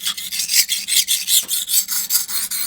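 A knife blade is sharpened on a coarse 220 grit King whetstone, with rhythmic rasping strokes, about a dozen in quick even succession, close and crisp with no talking.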